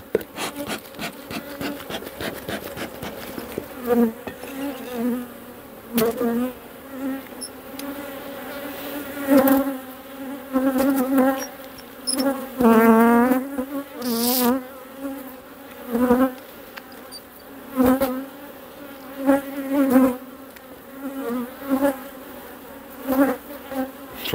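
Honeybees from a captured swarm buzz and drone close by, a dense layered hum with individual bees whining past, mixed with intermittent wooden rubbing and scraping from hive handling.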